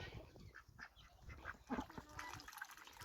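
Runner duck drake on a small farm, calling with raspy quacks and honks at close range over steady background noise.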